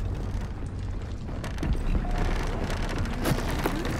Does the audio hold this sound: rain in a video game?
yes